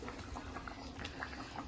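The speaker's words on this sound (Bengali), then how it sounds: "মাছগুলোকে ভালো করে আমাকে ফুটিয়ে নিতে হবে বন্ধুরা।" Rohu fish curry with potato and pointed gourd bubbles in a pot, a faint, steady simmer with small pops and gurgles and no voices.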